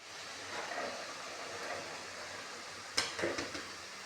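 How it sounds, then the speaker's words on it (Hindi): White lobia beans are tipped into a frying pan of spices and fenugreek in a village kitchen, giving a sudden sizzling burst and a few scraping stirs after a low, steady background hiss. "वाइट लोबिया डाल दिया, इसके बाद हमें इन्हें भूनूंगी वाइट लोबिया को"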